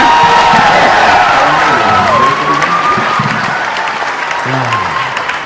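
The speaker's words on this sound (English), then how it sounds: "Give him a round of applause" A comedy and ventriloquism show audience bursts into loud applause and cheering, a dense roar of clapping with whoops and shouts that holds steady and eases slightly toward the end.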